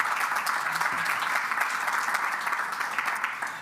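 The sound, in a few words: conference audience applause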